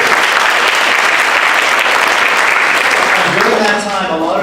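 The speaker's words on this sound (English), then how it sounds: "Let's give a round of applause for that." Sustained applause from a sizable audience, loud and steady, tapering slightly at the end as a voice begins to come through.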